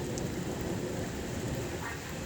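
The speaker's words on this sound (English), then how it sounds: "That's thunder." Steady rain pours during a December thunderstorm in Connecticut, a dense hiss with a low, faint thunder rumble blended underneath, constant in level throughout.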